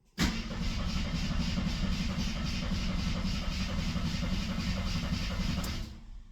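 A 1973 AMC Gremlin that sat 30 years in a barn cranks on its starter without firing, a steady rhythmic churning that runs loud and unbroken for about six seconds before cutting off.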